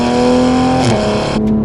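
A 2020 Toyota Supra accelerates under partial throttle, its engine droning loud and close with a steady tone that dips briefly as it shifts, then settles again.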